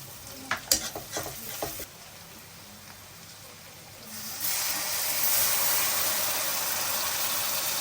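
Garlic dropped into a hot pan in a home kitchen: a few sharp utensil clicks and scrapes come first, then a loud, steady hiss of sizzling oil swells up midway and holds to the end, close and with no voices.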